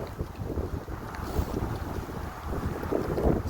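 Wind buffets a microphone on a windy morning walk outdoors in New York, a steady loud low rumble with gusty swells and no voices.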